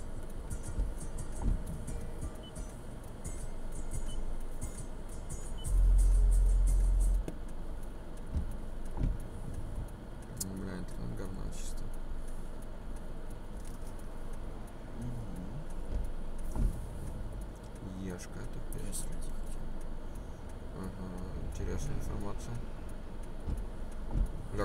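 Cars drive past a parked car, heard from inside the cabin as low rumbling swells that rise and fade beneath near-continuous conversation.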